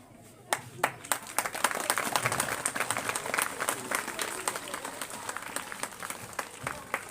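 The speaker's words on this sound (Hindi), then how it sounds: "तालियों के अंदर जोरदार तालियां" Loud applause from a crowd at a school closing ceremony, many sharp individual claps rising into dense, sustained clapping that keeps up steadily throughout.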